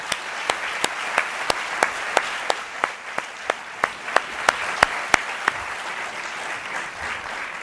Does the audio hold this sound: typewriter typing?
no